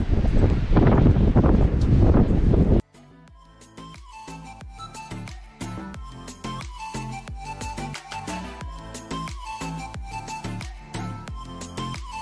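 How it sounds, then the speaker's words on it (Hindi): Wind roars hard against the microphone on a beach in Scotland for the first few seconds, then drops to a quieter background under faint tonal chimes. "हवा चल रही है"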